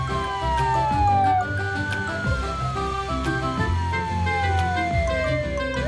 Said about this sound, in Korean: 사이렌을 울리면서 사고 현장으로 달려가지.